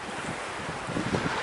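Strong wind blows outdoors at a lakeside hotel, a loud continuous broadband roar buffeting the microphone with gusty surges and no voices.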